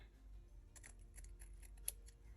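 Scissors trim a folded paper tag in a quiet room, with a few soft snips in quick succession and one sharper cut near the end, with no one speaking.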